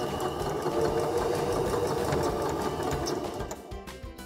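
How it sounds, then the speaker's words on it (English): Sewing machine stitching elastic onto a shirt being upcycled into a skirt, a steady close whirring drone that runs continuously and eases off near the end. "And we're going to start sewing down."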